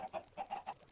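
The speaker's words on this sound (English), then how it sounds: "When I hear a chicken, I still think back to this farm here." Chickens clucking on a Minecraft egg farm, sitting in water above glass panes; four short, faint clucks in an even rhythm with brief pauses between them.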